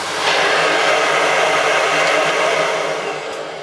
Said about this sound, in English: I can just normally vacuum my carpet